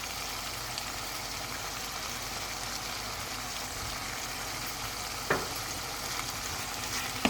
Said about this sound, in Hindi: अभी तेज़ आंच पे हम इसको भून लेते हैं।